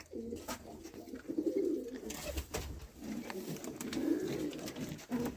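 Pigeons cooing in a loft housing young chicks, soft low repeated coos that overlap in a continuous murmur, close by and steady, with no talking.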